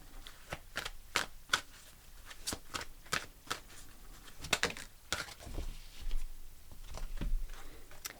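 Tarot cards shuffled by hand, close and soft, a rapid run of crisp riffling flutters and taps with brief pauses, as cards are drawn from the deck.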